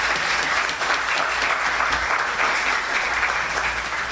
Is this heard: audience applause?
yes